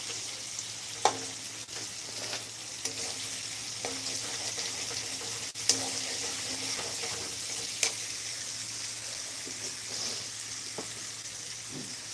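Boiled potatoes frying in a pan with ginger and chilli paste for niramish aloo dum, a steady soft sizzle running throughout with occasional clinks and scrapes of stirring, close and moderately quiet, no talking.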